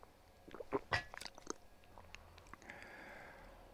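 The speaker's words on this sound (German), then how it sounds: "Schluck Wasser." A person takes a sip of water, with a few soft wet mouth clicks and a swallow, quiet and close, followed by faint breathing.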